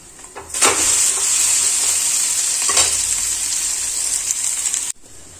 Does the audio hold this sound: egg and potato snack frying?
yes